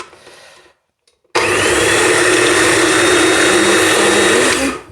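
Small kitchen food processor slicing peppers: after a brief quiet pause the motor starts abruptly with a loud, steady high-pitched whir and rattle of blade through vegetables, running continuously close up.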